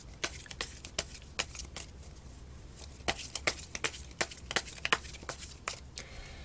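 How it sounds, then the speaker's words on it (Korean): Tarot cards are shuffled and drawn with a series of quick, crisp flicks and slaps, spaced irregularly and clustered more densely in the second half. The sounds are close and fairly quiet over a soft background, with no talk. "카드 4장을 한번 뽑아보겠습니다"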